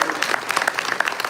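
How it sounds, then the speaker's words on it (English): A Comic-Con audience at a San Diego Marvel Legends panel claps in a dense burst, close and bright with individual hand claps standing out, brief and lively with no talk over it. "give yourselves a round of applause"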